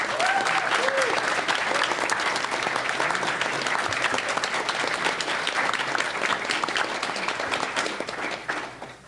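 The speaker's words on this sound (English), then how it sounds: "Please give these guys a round of applause." A convention crowd at Everfree Northwest 2013 bursts into sustained applause for game developers, a dense, steady wash of clapping close by that fades slightly at the end.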